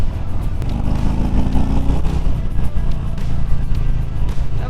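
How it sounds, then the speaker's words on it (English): Harley-Davidson Street Bob 114 motorcycle rolling at about 45 mph in third gear through a residential area, a loud steady V-twin engine drone with rising harmonics as it pulls, continuous throughout with no speech. "I'm rolling around 45 mile an hour in 3rd gear here in this kind of residential area."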